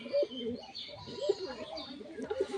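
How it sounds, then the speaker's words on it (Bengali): Pigeons, one of them nesting on eggs, give soft repeated coos with a few faint chirps, close by and fairly quiet against light background noise. "এই পায়রাটাও ডিম পেড়ে তাওয়া দিচ্ছে"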